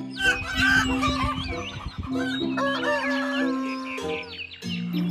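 Several chickens cluck and squawk loudly nearby in overlapping bursts, with a steady tonal hum running underneath throughout.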